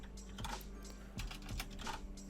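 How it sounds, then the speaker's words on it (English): Quiet clicking of a computer keyboard, a few short bursts of keystrokes with brief pauses between them, close and soft. "typing the word trailer in"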